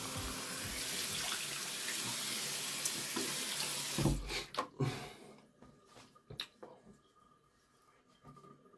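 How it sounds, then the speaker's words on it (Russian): Tap water running into a sink while a face is rinsed after a wet shave, a steady close rush for several seconds, then the flow stops and wet splashes, drips and splashing hands follow. "Так, ребят, секунду, умываюсь"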